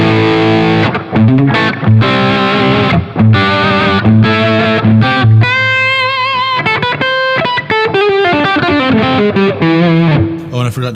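Electric guitar played through a Tech 21 Richie Kotzen RK5 Fly Rig with the reverb switched on, giving loud, distorted, continuous chords and single-note lines with a lingering reverb tail throughout.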